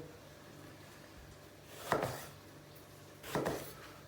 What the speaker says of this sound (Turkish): Patlıcanları hemen şöyle patlıcan kebaba benzer şekilde biraz iri doğrayacağız